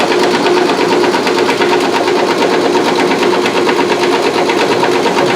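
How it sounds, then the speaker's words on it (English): A Stokes 212H11 vacuum pump runs steadily on fresh oil, giving a loud, close, continuous mechanical drone with a fast even chatter throughout and no voices. "Working pump."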